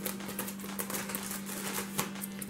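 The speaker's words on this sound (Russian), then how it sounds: "Просто надрежу ножницами и достану ее содержимое." Scissors snip open a parcel in a rapid series of small, crisp clicks and cuts, close and moderately quiet over a steady low electrical hum.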